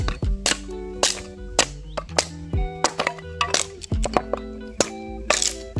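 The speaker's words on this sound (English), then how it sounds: "And I just chop it up like this." Dry, straight-grained lumber is chopped into small sticks to fuel a homemade rocket stove, with sharp, loud, close cracks of the blade splitting wood at a steady, roughly regular pace, each split ringing briefly.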